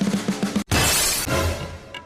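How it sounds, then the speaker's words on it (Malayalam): A glass is thrown and shatters in a house, a sudden loud crash with a long bright spray of breaking shards following a short burst of background noise, with no talking. "ആരടാ വീട്ടിലെ ഗ്ലാസ് എറിഞ്ഞ് പൊട്ടിക്കണേ?"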